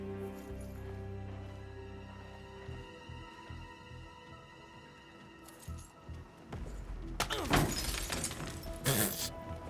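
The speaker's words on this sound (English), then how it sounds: "No one heard that glass break." Glass shattering in Hitman World of Assassination, a loud crash with tinkling fragments near the end, preceded by quieter game music and a few thuds.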